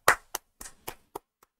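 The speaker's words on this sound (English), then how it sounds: "Everybody clap." A small group applauds after an Intellivision horse racing game, with six sparse claps spread over under two seconds, the first loudest and the rest fading to a faint final clap, no voices.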